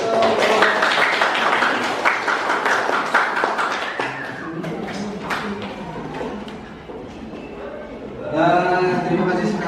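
Classroom applause from students, clapping at a moderate level mixed with voices and chatter, a teacher speaking over the noise as it continues.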